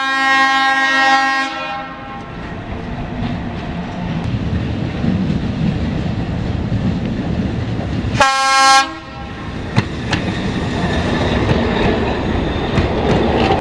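A historic tram running on the line between Trenčianska Teplá and Trenčianske Teplice, loud and close, with a long horn blast at the start, steady rolling rumble and rail clatter, and a second horn blast partway through.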